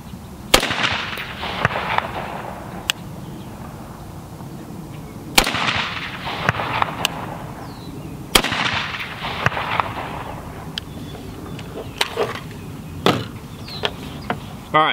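Gunshots from American Eagle ammunition fired at an outdoor target about 50 yards downrange, several sharp loud cracks spaced a few seconds apart with brief echoing tails, and no talking.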